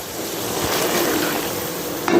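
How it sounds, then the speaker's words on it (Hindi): Water pours into a pot of fried chickpeas for pulao, making a loud, steady rushing hiss that continues for about two seconds and ends with a brief clatter. "तो अभी मैं इसमें डालूँगी पानी"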